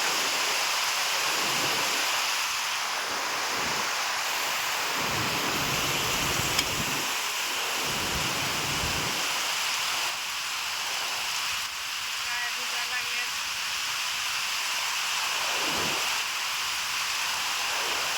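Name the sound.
heavy rain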